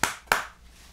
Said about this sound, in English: then claps twice